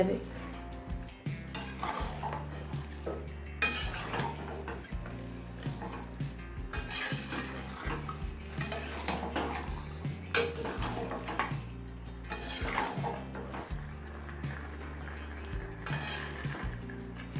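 A spoon scrapes and clanks around a pan while chicken kosha is stirred, with irregular metallic knocks and scraping strokes over a soft low simmer.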